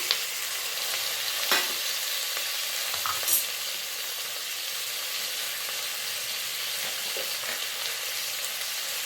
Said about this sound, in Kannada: ಈಗ ಒಂದು 3 ಟೊಮೆಟೊನ ಕಟ್ ಮಾಡಿ ಎತ್ತಿಟ್ಕೊಂಡಿದ್ದೀನಿ, ಅದನ್ನು ಹಾಕ್ತಿದ್ದೀನಿ